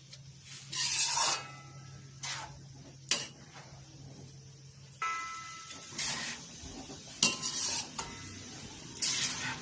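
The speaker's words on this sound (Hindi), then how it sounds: "अब हमें चलाते रहना है गाजर को, कि गाजर कढ़ाई में लग ना जाए।" Carrots for carrot halwa stirred in a kadhai, giving intermittent scraping and clinking bursts of a spoon against the metal pan, fairly close, with quiet gaps and a low steady hum between strokes and no talk.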